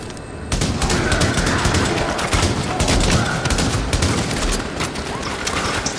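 A deployed turret in The Division, set in Times Square, fires rapid sustained bursts, loud and dense, with continuous gunfire layered over the action.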